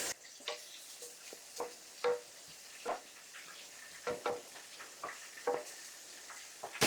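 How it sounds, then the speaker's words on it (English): A spoon stirs butter, salt and pepper into a pot of hot pasta. Irregular soft taps and scrapes against the pot sit over a faint, quiet sizzle, with no talking. "We're going to stir that until that butter melts in that hot pasta"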